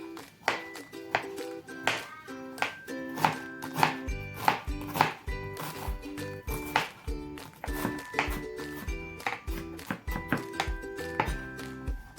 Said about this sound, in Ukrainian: Огірки і цибулі я нарізаю кубиком.